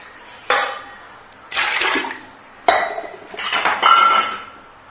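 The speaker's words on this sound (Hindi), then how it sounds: "और 2 गिलास के करीब पानी डाल दूंगी।" Water poured into a pressure cooker holding mutton pieces, onion, ginger-garlic paste and tomato, heard as several close splashing and sloshing bursts with metallic clinks of the pot between them.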